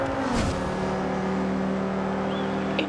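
Audi RS3 Sportback engine in the racing game Forza Horizon 2, a steady loud drone of a car driving at speed with one brief rising rev near the start, alone with no talk.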